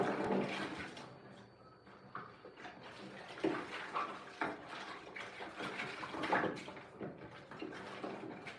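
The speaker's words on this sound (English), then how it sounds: "So I just rinsed the container where the fish came with" Tap water runs as a container from packaged fish is rinsed in a kitchen, a soft uneven splashing and trickling mixed with light clatter and knocks, fairly quiet and without talk.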